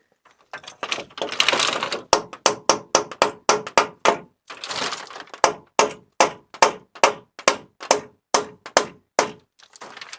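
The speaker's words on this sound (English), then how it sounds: "So I need to knock it in with a hammer for a start." A hammer knocks a coach screw into a tree trunk outdoors, about twenty loud, sharp blows in a steady rhythm, interrupted by two brief rustling pauses.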